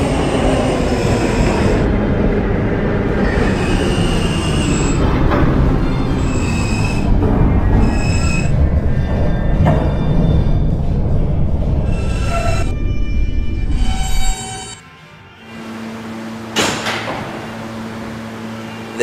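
An R160B Alstom subway train in a Roblox game rolls along with a steady loud rumble and rattling wheels, faint squeals over the run, then slows and quiets near the end before a brief hiss and hum.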